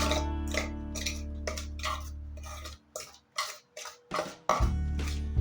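A spoon stirs a sticky puffed rice sweet mixture with cardamom powder in a metal vessel, giving a string of close, rhythmic clinks and scrapes over a low hum that drops away midway.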